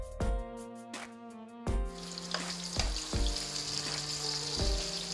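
Two medium onions, sliced, fry in hot oil with a soft, continuous hissing sizzle that starts a moment in, heard under quiet background music with rhythmic tonal notes.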